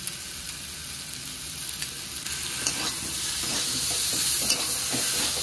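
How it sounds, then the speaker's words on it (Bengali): Spices being sautéed with potatoes, pointed gourd, chopped tomato and ginger paste in a pan, a steady sizzle and frying hiss with occasional stirring scrapes, growing slightly louder toward the end, no talking. "এবারে ভালো করে সব মশলা আলু পটলের সাথে কিন্তু কষার পালা।"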